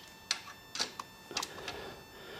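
Ratcheting and clicking of a 1/2 inch socket wrench loosening bolts on a Harley motorcycle during a batwing fairing install, a few sharp metallic clicks in quick bursts, close and fairly quiet.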